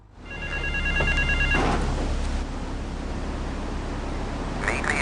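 A payphone rings in the video game Grand Theft Auto III, a brief electronic trill over a steady low hum and background noise, then fading into ambient city sound.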